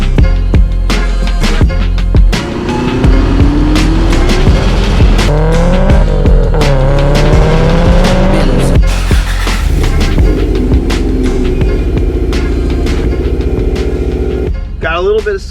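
Subaru STI sliding sideways with loud engine revs and squealing tires, engine pitch rising and falling as it drifts, a voice talking over it and a brief clatter near the end.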